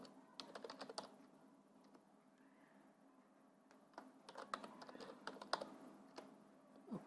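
Typing on a computer keyboard while entering sales data into an Excel spreadsheet: quiet, scattered key clicks in irregular bursts, with a lull in the middle and denser clatter toward the end.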